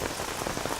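Rain patters steadily on a tent set up over a coffin, a dense even hiss of drops filling the short moment with no voices.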